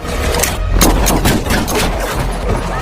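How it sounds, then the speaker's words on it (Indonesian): Gunfire from a shootout scene in a John Wick film, with dense repeated shots and bursts running steadily through the whole stretch, loud and close, set against background score. "terjadilah baku tembak di antara keduanya"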